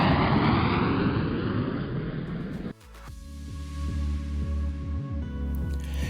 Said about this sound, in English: I fly a Cirrus SF50 Vision Jet into Laconia Municipal Airport in central New Hampshire